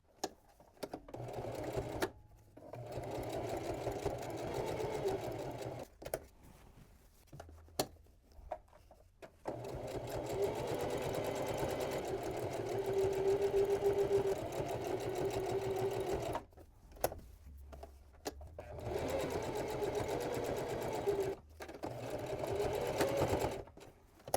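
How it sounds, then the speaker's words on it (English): A sewing machine top stitches around the bottom and sides of a fabric pocket on a drawstring gift tote, running in long steady bursts with short pauses between, close and alone. "I'm going to top stitch around the bottom and sides of the pocket."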